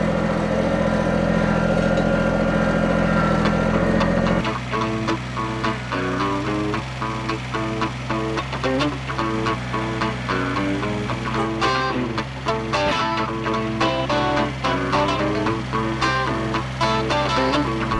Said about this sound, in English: can the tractor even lift this garden shed up?